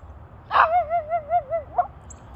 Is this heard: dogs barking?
yes